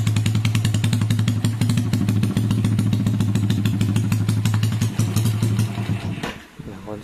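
A Yamaha Jupiter Robot 130cc motorcycle engine runs close and loud with a steady, rapid idle putter for about six seconds, then cuts out abruptly, leaving a quieter tail. Someone speaks briefly near the start.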